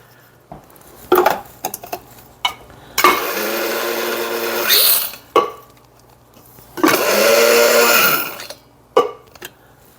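Electric spice blender grinding a coarse tablespoon of sausage seasoning, two loud bursts of whirring roughly two seconds each, separated by clattering, tapping and handling noises close by.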